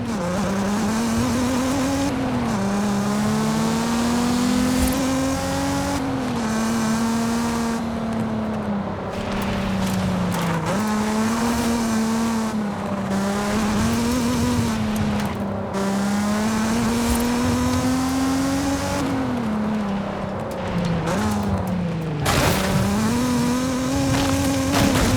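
Mazda Miata engine droning steadily in Forza Horizon 5 while driving through woods at the base of a volcano, continuous revving with pitch rising and falling through gear changes, loud and close without talk.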